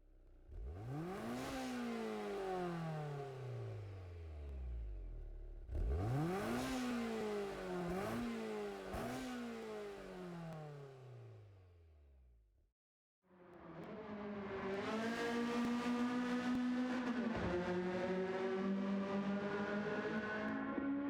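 A built Honda Civic EG in Gran Turismo 7 revs hard through rising gear pulls, dropping sharply at each shift, then cuts out briefly before a sustained high-pitched wail; loud and close with no voices.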